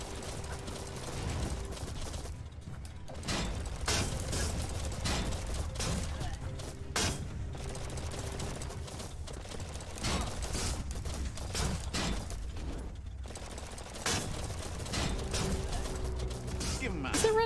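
Rapid weapon fire in the Biomutant video game, bursts of sharp shots repeating across the stretch amid mechanical clatter, with a voice talking now and then.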